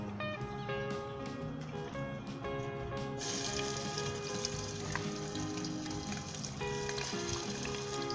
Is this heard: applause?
no